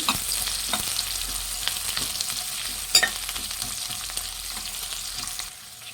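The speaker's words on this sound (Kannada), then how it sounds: "ಎಣ್ಣೆ ಕಾಯ್ದಿದೆ. ಈರುಳ್ಳಿ ಹಾಕೊಳ್ಳೋಣ. ಈರುಳ್ಳಿ ಚೆನ್ನಾಗಿ ಫ್ರೈ ಆಗಬೇಕು" Onions fry in plenty of hot oil in a pan for a Guntur chicken dish, giving a steady, close sizzle broken by scraping strokes of a spoon, with no talk.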